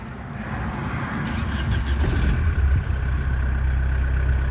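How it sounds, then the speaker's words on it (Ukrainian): A diesel engine in a gold Audi starts up close by and settles into a loud, steady, rough rumble, with no voices. "покажу, як запускається мотор."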